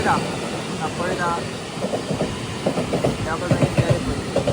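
A Mumbai local train passes another on a double track in monsoon rain, a loud rolling rumble with rhythmic clattering wheel beats up close, mixed with some voices.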